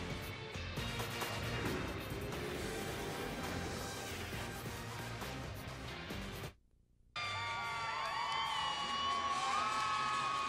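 A basketball crowd cheers and whoops loudly after a dunk at Allen Fieldhouse during an Oklahoma at Kansas game, a sustained roar that cuts out briefly near the end and then swells back up.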